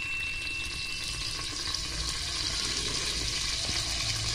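Curry leaves sizzling in hot oil inside a pressure cooker while making masale bhat, a steady, close, dense crackle and hiss running throughout without talk.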